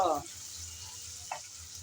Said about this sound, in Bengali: তেল গরম হয়ে যাওয়ার পর দিয়ে দিচ্ছি কিছুটা পরিমাণ কাঁচা সরি পেঁয়াজ কুচি পেঁয়াজ কুচি দিয়ে নেড়ে চেড়ে কিছুক্ষণ ভেজে নেব